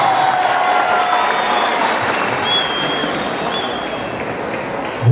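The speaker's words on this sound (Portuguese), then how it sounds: "uma salva de palmas ao professor Josimário" An audience at a PP party convention gives a round of applause for professor Josimário, a councillor pre-candidate seeking re-election. Dense clapping runs throughout, with faint tonal cheers or whistles over it, easing slightly toward the end.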